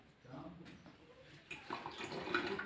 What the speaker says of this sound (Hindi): चलो मैं हसीब के साथ ना बोतल में पानी डलवा लूँ।